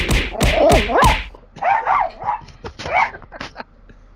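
A dog gives four loud, close barks in quick succession, then quieter yips and whimpering sounds follow.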